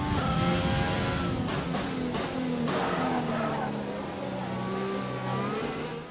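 Formula 1 car engine in the F1 2020 racing game, the car struggling for grip on a light-downforce setup, a loud continuous whine with pitch sweeps as it revs and shifts, with brief tire squeal and a voice talking over it.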